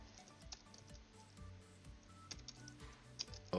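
Someone types code on a computer keyboard in a quiet room, a quick run of soft, irregular key clicks close by, with no talking.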